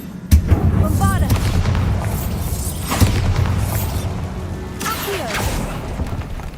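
Bombarda blasting spells exploding in Hogwarts Legacy: three loud booms with crashing, shattering debris, each followed by rumbling echoes.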